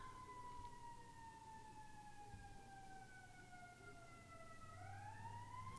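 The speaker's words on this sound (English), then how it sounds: "We can wait for the sirens to pass here. Wow, these are loud ones." Emergency vehicle sirens wail steadily and loudly outside, a sustained two-tone rise that holds, then shifts pitch as the vehicles pass, over a low rumble of traffic with no talking.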